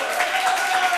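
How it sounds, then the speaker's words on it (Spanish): Audience applause fills a TV studio during a student-made late-night talk show, a dense, even wash of clapping held steady for the whole second with no pauses. "Un fuerte aplauso para Miriam."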